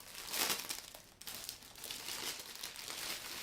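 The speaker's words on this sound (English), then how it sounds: "So let's pull out punch card." A punch card pulled out of a Taitexma knitting machine gives a soft, papery rustling and scraping sound in two quiet bursts, close by and with no talking.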